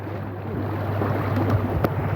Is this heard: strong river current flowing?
yes